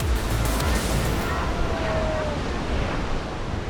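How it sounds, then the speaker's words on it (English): Powerful ocean surf at Punta de Lobos, Chile, roars as a continuous broadband wash of breaking water and wind rumble, loud and close throughout, with a brief faint whine passing midway. "this morning's swell will be unusually strong, with waves of up to 30 feet"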